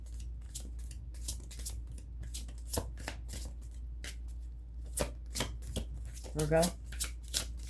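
Tarot cards are shuffled in quick papery riffles and soft slaps, close and fairly quiet, with a voice speaking briefly between them.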